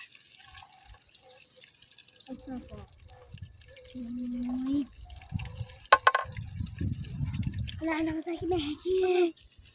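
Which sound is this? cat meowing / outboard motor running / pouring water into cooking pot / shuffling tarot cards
pouring water into cooking pot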